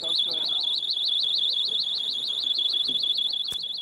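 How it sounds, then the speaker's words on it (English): A pocket personal alarm shrills continuously at close range, a piercing warbling tone pulsing rapidly and steadily with faint background noise beneath. "police handed out thousands of pocket alarms on New Year's Eve"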